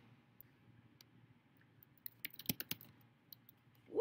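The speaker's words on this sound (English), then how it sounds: "let's make sure we're typing in the right place." Typing on a computer keyboard, soft scattered key clicks with a brief faster burst of louder keystrokes near the middle, quiet and close over a low background hum.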